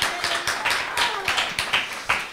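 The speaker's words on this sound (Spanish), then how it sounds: "pues un aplauso" Clapping from a small audience after a political talk at an Ateneo in Spain, heard as fairly close, uneven bursts of hand claps with a loose rhythm over about two seconds.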